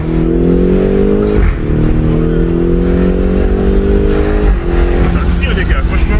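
A BMW X6M rated at 575 hp roars loudly under hard acceleration, its pitch climbing steadily through gear changes marked by brief dips, with crackling exhaust pops and occupants talking over the engine.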